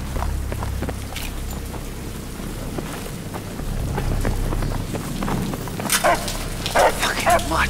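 A dog barks several times in the rain during a night mission in Battlefield 3, sharp barks rising near the end over steady rainfall and rumbling thunder.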